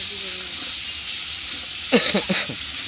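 Tomato paste going into a pan of frying chicken brings a steady sizzling hiss with a brief burst of spattering crackles near the end, close up and moderately loud, with a faint voice in the background.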